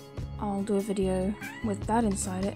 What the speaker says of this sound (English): I don't know if you just heard, but that was my cat.